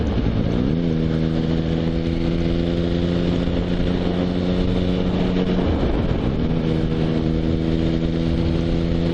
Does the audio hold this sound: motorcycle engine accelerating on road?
yes